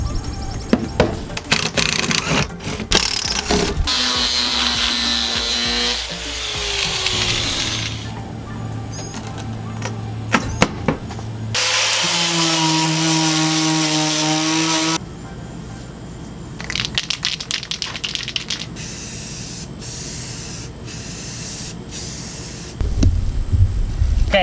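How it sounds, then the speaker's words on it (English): Close mechanical cutting noises inside a school bus during installation of an Ecotemo L5 tankless propane water heater: sharp clicks and snaps, then stretches of a steady whirring tool grinding through material, stopping and starting. "So I'm gonna cut this black thing off"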